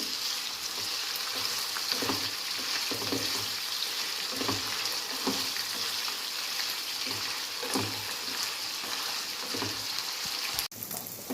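Karimeen fish frying in hot oil sizzles steadily while a spoon stirs through it, with soft rhythmic scraping and bubbling throughout and a sharp clink near the end.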